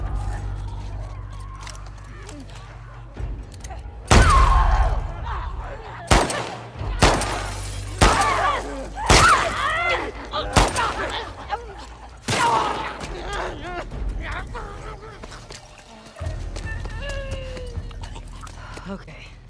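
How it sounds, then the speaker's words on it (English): Sharp gunshots from The Last of Us Part II, with repeated loud bangs and bursts spread over about twenty seconds and quieter game ambience between them. "Didn't we hear gunshots or something?"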